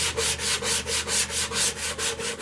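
Sandpaper rubbing against a green poplar bowl as it turns on the lathe, a loud, steady rasping hiss that swells and fades in a quick regular rhythm of about four strokes a second, heard close and without talk.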